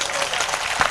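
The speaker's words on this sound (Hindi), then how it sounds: "ताली बजाइए" Applause from the audience at a Hindi comedy and poetry laughter show, a brief burst of dense clapping with voices mixed in underneath.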